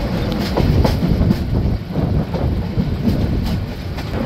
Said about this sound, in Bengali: খুব অল্প সময় যাত্রাবিরতি দিয়ে ট্রেনটি ছেড়ে যাচ্ছে লাকসাম জংশন স্টেশন।